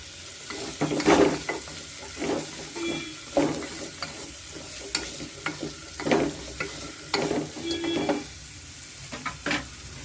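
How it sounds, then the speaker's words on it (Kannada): Vegetables and bread fry in oil in a pan while a spoon stirs them repeatedly, giving a steady bright sizzle broken by irregular scraping bursts, close and without talk. "ಸೇರಿಸ್ಕೊಂಡು ಸ್ವಲ್ಪ ಮಿಕ್ಸ್ ಮಾಡ್ಕೊಳ್ಳೋಣ. ಸ್ವಲ್ಪ ಅದು ಎಣ್ಣೆಯಲ್ಲಿ ಸ್ವಲ್ಪ ಫ್ರೈ ಆಗಲಿ."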